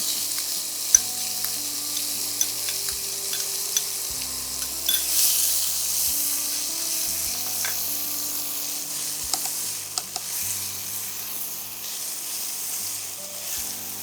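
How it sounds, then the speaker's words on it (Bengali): Two large onions frying in hot oil for a radish mutton curry, a steady soft sizzle throughout with regular scraping knocks of a spatula stirring the pan, close by and with no talk. "এই পেঁয়াজটাকেও একদম লাল করে ভাজতে হবে"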